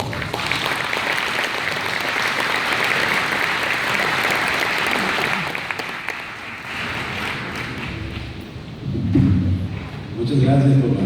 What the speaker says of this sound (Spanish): le pido un aplauso.